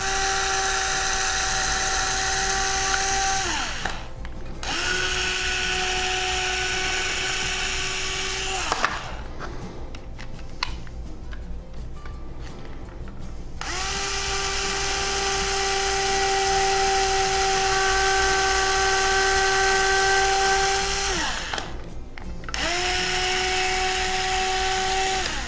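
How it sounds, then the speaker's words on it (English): A high-pitched power drill whines steadily, drilling holes in a quadcopter frame, stopping briefly between holes and starting again, loud and close with no talking. "you want to drill these as straight as you can"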